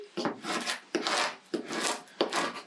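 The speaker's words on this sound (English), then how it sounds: "So give that a good scrape on both sides" Firm rasping scrapes of a tool pressed over vinyl transfer tape on a craft design, four long strokes in an even rhythm, close and clear with no talk.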